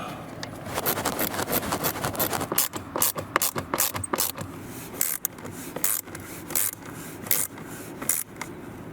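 Screws going back into a Lexus UX blower motor, a close series of sharp clicks, scrapes and ratchety rasps coming in uneven bursts, with no one talking.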